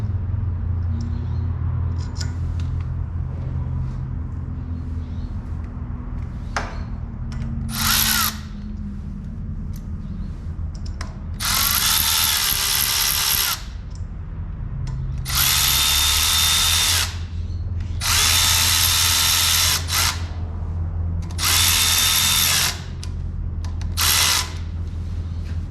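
A power tool runs bolts into a Jeep JK Wrangler steering setup in several loud whirring bursts of a few seconds each, close up, with a low engine-like hum and clicks between bursts.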